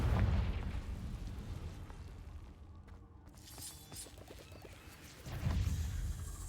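A Confringo spell explosion in a video game erupts as a deep, crashing boom with shattering debris at the start, fades into crackling, then a second heavy blast lands near the end.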